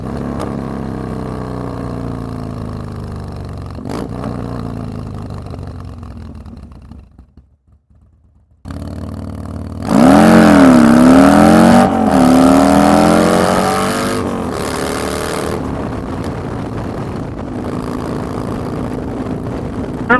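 A Honda Civic accelerates past a motorcycle on the road, a loud engine roar rising and shifting in pitch as it passes close by after a brief near-silent gap, then fading into steady road and wind noise.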